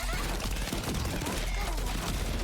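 Rapid gunfire bursts from battle in the video game Blue Archive, loud and dense fusillade crackling throughout under game effects.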